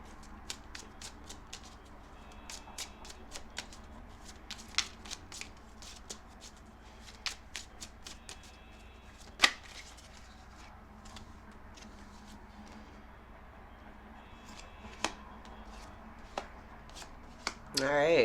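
Tarot cards being shuffled by hand during an Aries Moon reading, a steady run of soft, close riffling flicks and snaps with a few sharper card slaps, heard alone in a quiet room.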